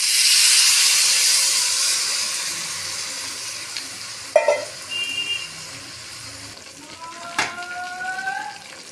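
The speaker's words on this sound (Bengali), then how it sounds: "এবার আমি এর উপর দিয়ে দেবো সামান্য করে একটু জল।" Water poured onto food in a hot pan while cooking at home: a loud rush of hissing steam that slowly fades over several seconds, followed by a few soft clinks of a utensil against the pan.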